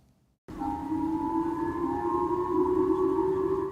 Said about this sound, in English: Missile sirens gave a jolt to residents in Japan's northern island of Hokkaido Thursday morning.